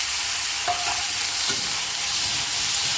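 Onion, green chilli and tomato frying together in a pan: a dense, even sizzle held at close range, with faint stirring knocks breaking through now and then.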